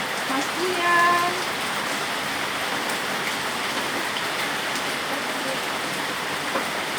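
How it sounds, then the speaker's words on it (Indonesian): Steady rain falls with a dense, even hiss of drops on surfaces, moderately loud and unbroken, while a voice briefly speaks near the start. "Ini hujan,"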